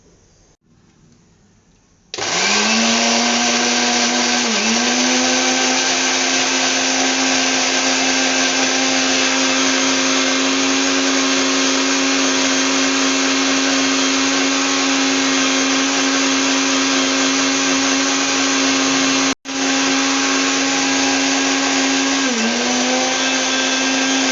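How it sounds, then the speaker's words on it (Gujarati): A kitchen mixer grinder whirs into a loud, steady motor drone as it crushes onions into a gravy, holding for about twenty seconds with one brief cut-out before it resumes. "હવે આપણે એને મિક્સરમાં ક્રશ કરી લઈશું."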